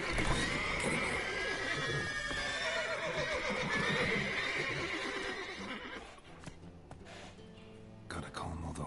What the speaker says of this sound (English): Gotta calm all the horses before